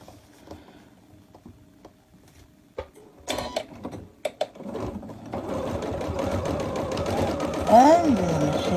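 A domestic sewing machine whirs steadily and loudly through fabric while a 3D pinwheel quilt block is stitched, following some quiet handling clicks and a few sharp taps, with a voice talking over the run.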